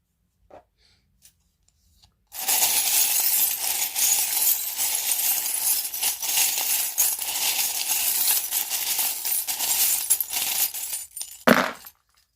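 Metal charms clink and rattle steadily as a tray of them is set down, a dense close jangle lasting several seconds that ends with a brief louder knock.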